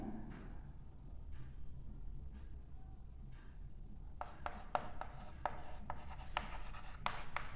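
A pen scratches across paper, faint soft strokes at first, then a denser patch of quick scratchy marks close by in a quiet room.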